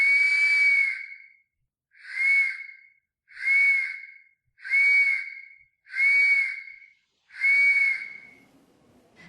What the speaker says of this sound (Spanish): permite accionar los 3 silbatos simultáneos